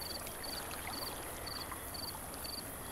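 Water flows through a channel in Timberborn as a faint, steady rushing wash, with soft, regular cricket-like chirps repeating over it.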